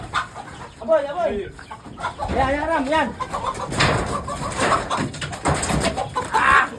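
A rooster's crow rings out twice amid a lively flock of clucking chickens, with people talking and shouting nearby over the farmyard noise.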